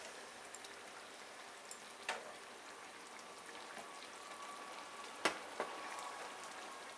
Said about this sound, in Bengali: আমি 3 থেকে 4 মিনিট একটু ফুটতে দিচ্ছি।